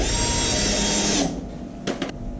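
A power driver sinks a screw to secure mesh on a quail hutch: a steady, loud whine for about a second, then stops, followed by two brief spurts.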